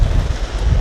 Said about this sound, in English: there is a stronger wind today